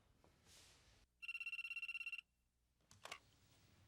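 A telephone rings once with a single rapid trilling bell burst lasting about a second, close and clear, amid quiet room noise with faint rustles before and after.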